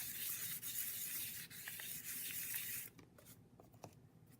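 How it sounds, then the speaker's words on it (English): Fine black sandpaper rubs over a textured pottery mug in rapid, close scratchy strokes for about three seconds, then gives way to faint scattered handling sounds. "then I would use this black sandpaper. Is very fine."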